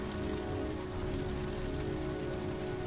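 Steady rain falls in the video game Heavy Rain, a dense, even patter on surfaces with a faint low tonal hum underneath and no voices.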